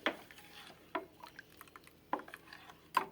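A cornflour mixture is stirred into coconut milk for a coconut pudding, making four distinct spoon knocks against the bowl with soft liquid swishing between them, close and quiet with no voices.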